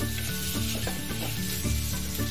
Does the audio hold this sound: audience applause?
no